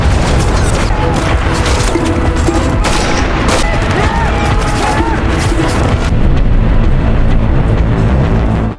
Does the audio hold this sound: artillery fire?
yes